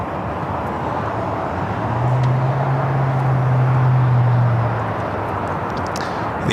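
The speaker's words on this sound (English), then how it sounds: "The Delta 767 to 300ER coming up from Honolulu, also touching down here on the south side." A Delta Boeing 767-300ER arriving from Honolulu touches down at Los Angeles airport, a steady broadband roar that swells in the middle with a low droning engine tone, then eases off.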